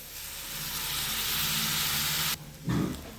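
Egg fried rice mixture with salt, pepper and soy sauce frying in a hot pan, a loud steady sizzle that suddenly cuts out near the end, followed by a brief clatter.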